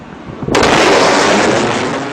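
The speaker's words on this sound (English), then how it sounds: "Aircraft actually usually produce two booms." A supersonic aircraft's sonic boom, a sudden sharp blast after a quiet moment that then sustains as a loud broad rumble and slowly fades.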